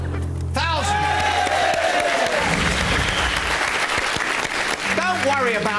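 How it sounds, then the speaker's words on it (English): A studio audience at a game show breaks into loud, sustained applause with cheers and whoops, filling the room while voices talk over it. "Let everyone else do the clapping."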